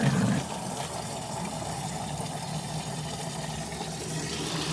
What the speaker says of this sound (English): Let's get some rainwater.